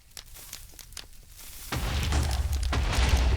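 TNT exploding in Minecraft: after a stretch of quiet clicking and footsteps, a loud rumbling blast breaks in and a roaring chain of explosions continues to the end, with no speech.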